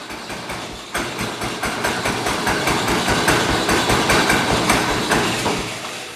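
A John Deere 212 lawn tractor engine idles low up close, a steady, loud, rhythmic chugging that swells slightly after the first second and keeps pulsing evenly throughout, with no talking.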